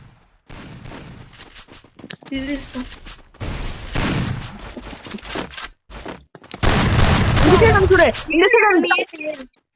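Rapid bursts of gunfire ring out during a Free Fire match, loud and close, mixed with fast excited talk from the players.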